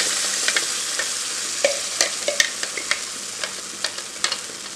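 Ground green tomato paste for chutney hisses and sizzles in a hot pan over low flame, with repeated light scrapes and clicks of stirring throughout, close and clear with no voices.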